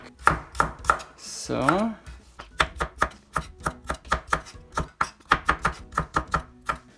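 Knife chopping through a cabbage stem on a cutting board while preparing Japanese yakisoba at home, a steady run of close, crisp regular taps with a brief pause and one short spoken word.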